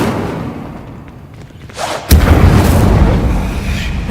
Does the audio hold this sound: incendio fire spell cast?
yes